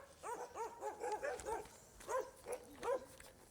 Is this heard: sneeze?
no